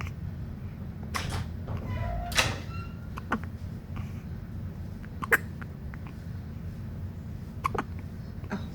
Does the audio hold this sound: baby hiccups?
yes